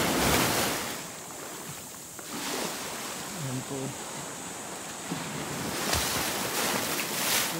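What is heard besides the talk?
strong sea waves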